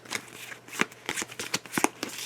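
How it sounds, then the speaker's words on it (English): A deck of playing cards being shuffled for a tabletop card game, with a quick series of crisp riffling bursts and flicks, close and fairly loud, heard alone. "We're going to shuffle up our cards"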